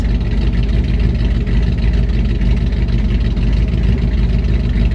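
A Mopar V8 car with factory exhaust and its cutouts opened, a steady deep loud rumble that stays even and continuous throughout, close with no talking.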